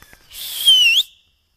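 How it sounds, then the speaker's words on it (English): A person whistling one clear, sustained note lasting under a second, with a slight pitch dip and rise, loud and close, followed by silence. "He's gonna whistle."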